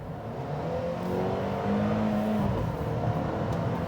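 A 2021 Mercedes-Benz GLA 250 4Matic with a 2-liter turbo four-cylinder accelerating, a steady rising engine drone heard from inside the cabin, its tone climbing smoothly over a few seconds with no voices.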